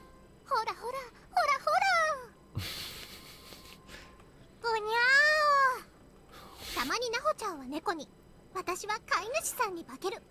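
A voice imitates a cat in the video game Corpse Party: Book of Shadows, giving a string of high, wavering meows with short gaps between them.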